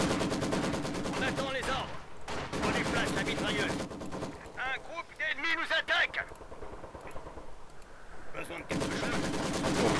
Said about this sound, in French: je déploie ma mitrailleuse en retrait.